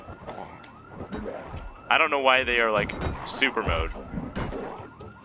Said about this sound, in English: It's the fucking alarm,